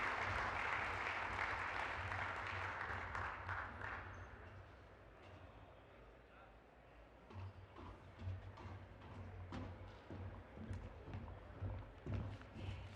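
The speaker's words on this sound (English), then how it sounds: "Let's give him another round of applause, too" An audience applauds a speaker at a conference opening session. Clapping is strongest at the start, fades to a low patter, then swells again with scattered sharp claps until the end.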